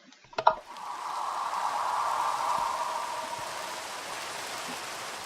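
A short click, then a steady hiss of rain in a video game begins and continues evenly, fairly soft and without voices.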